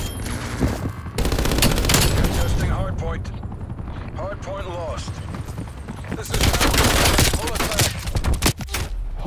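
Rapid gunfire bursts in the video game Call of Duty: Black Ops Cold War crackle in dense volleys throughout, mixed with a person talking over the shots.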